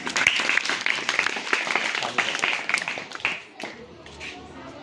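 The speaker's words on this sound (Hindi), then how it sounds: "हिमांशी के लिए भी ताली बजाएं सभी।" Scattered clapping from a small group of schoolchildren at a classroom art competition results, steady for a few seconds then thinning out, with voices underneath.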